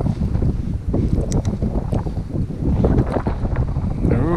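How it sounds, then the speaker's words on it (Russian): Strong wind gusting across a frozen lake during winter ice fishing in a snowstorm, a rough roaring buffet hitting the microphone in uneven surges throughout. "Ух, ветер дует."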